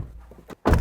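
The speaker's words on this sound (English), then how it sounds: "Our door slam test" A single solid thunk as the door of a 2023 Suzuki Jimny Lite slams shut, close and loud after a brief quiet moment.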